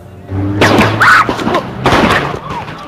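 Several sharp, loud bangs of gunfire ring out in bursts at a street protest, with shouting and commotion from protesters and police running for cover mixed in around them.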